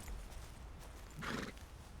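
A horse in the video game Red Dead Redemption 2 lets out a loud, close whinny late in the moment, over a steady bed of hoof clip-clops and ambient game sound.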